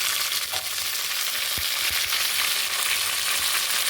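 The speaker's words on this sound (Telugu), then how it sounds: "ఇప్పుడు చూడండి, పుదీనా, కొత్తిమీర, కరివేపాకు ఈ 3 కూడా వేసేసుకుందాము." Mint, coriander and curry leaves frying with onions in a pan, a bright, steady hiss of sizzling oil with a few soft knocks of stirring, close and continuous, without speech.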